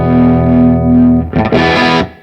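A Belle Epoch Deluxe tape echo unit is switched on, giving a steady tonal hum that shifts into a brief burst of brighter, noisier sound before fading out, close and fairly loud with no talking.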